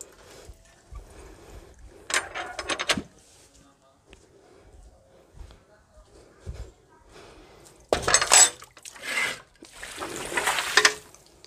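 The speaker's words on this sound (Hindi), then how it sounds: "बाल्टी भर गई है, चलिए फर्श पर डालते हैं।" A full bucket of water thrown across a floor at home, heard as a short splashy rush and then two longer, louder washes of water, with quiet speech and faint handling noises between them.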